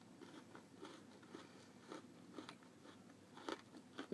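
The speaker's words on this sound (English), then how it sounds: "The biscuit is still crunchy." A stale iced gingerbread reindeer biscuit bitten and chewed up close, giving a series of crisp, crunchy snaps at a steady rhythm, fairly quiet, no talking.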